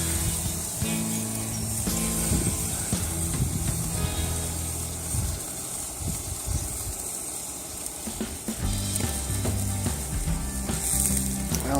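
Pork tenderloin sizzles on a Weber kettle grill: a steady, fairly loud hiss runs throughout, with a low tonal hum and scattered clicks mixed underneath and no talking.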